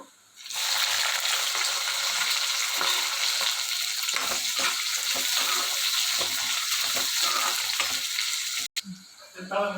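Sliced onion and green chilies hitting hot oil with dried red chilies, a loud close sizzle bursting in after a brief quiet start and holding steady, with a sharp knock near the end.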